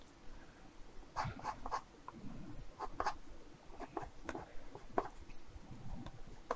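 Pencil sketching on paper, quiet close scratchy strokes in short bursts and pauses, soft and intimate with no voice over it.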